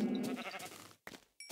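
A sheep in the video game Minecraft bleats in one short, fairly clear burst, followed by a couple of faint trailing sounds.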